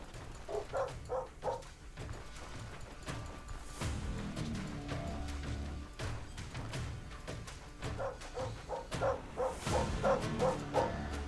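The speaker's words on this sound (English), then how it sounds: "Frickin' dogs." Dogs in the video game Stoneshard bark in quick rhythmic bursts, with a cluster of woofs near the start and another rapid volley toward the end. Thuds and rustling fill the quieter middle.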